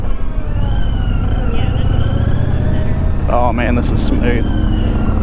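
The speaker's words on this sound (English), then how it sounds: "I love the way that motor sounds on this" A 2024 Indian Challenger Dark Horse motorcycle, rated at 122 horsepower, hums with a steady low engine drone while being ridden, mixed with wind noise. A rider talks over it.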